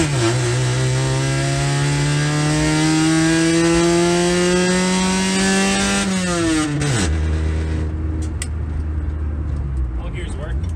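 A $1500 track car with a very loud exhaust revs and accelerates hard in one rising pull, then drops off abruptly as the throttle lifts, leaving a lower idle-like rumble close by.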